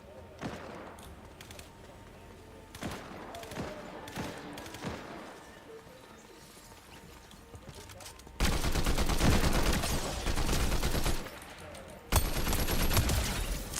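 Fortnite gunfire comes as scattered single shots early on, then dense loud bursts of rapid automatic fire, a pause, and another burst, all set over faint game ambience.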